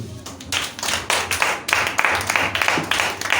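A church congregation at a French-language service claps and applauds in a burst of uneven hand claps, loud and close, that continues throughout.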